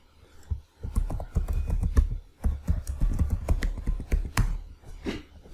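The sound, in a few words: typing email and password on computer keyboard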